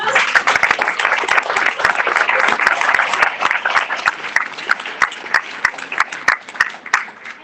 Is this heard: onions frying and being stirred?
no